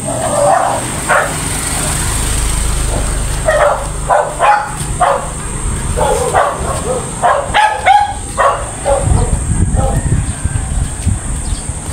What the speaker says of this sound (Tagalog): Sensya na kayo, kaingay yung aso. Kinakahulan pa tayo aso